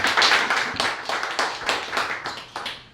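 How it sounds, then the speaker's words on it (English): An audience at a cannabis talk event gives a round of applause, with a dense run of close, uneven hand claps that swell and taper over a few seconds. "Everybody, another round of applause, please."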